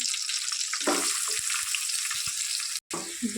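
Onions frying in a pan with cumin, green chillies and curry leaves, a loud steady hiss of sizzling oil with faint stirring clinks, continuous and close.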